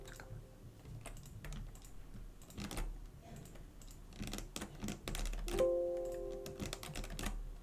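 Computer keyboard keys pressed for a Ctrl+F shortcut and Enter, a handful of quiet, scattered clicks with no talk over them.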